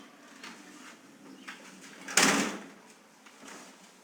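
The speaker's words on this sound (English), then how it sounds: "I'm going to open the door, I'm going to step outside" A house door is opened with a single sharp click and brief rattle, moderately loud against a quiet indoor room, with faint background sounds before and after.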